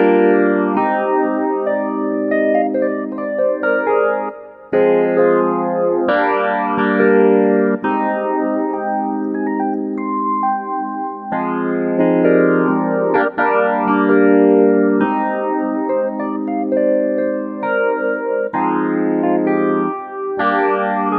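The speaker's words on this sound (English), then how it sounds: "Here's an electric piano sound based on a Fender Rhodes." Electric piano patch modelled on a Fender Rhodes, played on an Arturia Keylab 88 with Analog Lab software: sustained chords and melodic lines with a shimmering chorus-like warble, played continuously and clearly with no talk.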